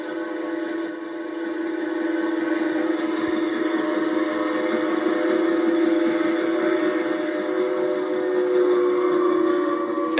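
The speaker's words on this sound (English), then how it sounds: "I told you I could hear the train coming." A train rumbles steadily and loudly for the whole stretch, a sustained whistle tone held above the rolling noise, with no voices.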